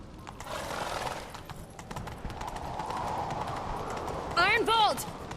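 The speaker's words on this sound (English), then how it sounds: "Grab a horse, we'll chase him down." Galloping horses in The Witcher 3 video game give a steady clip-clop of hooves under spoken dialogue, and a loud whinny rings out near the end.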